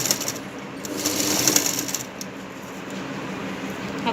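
A sewing machine stitches a zip onto a Banarsi kalidar lehenga, running as a steady, fairly soft mechanical whir with a rapid fine patter that swells briefly before settling.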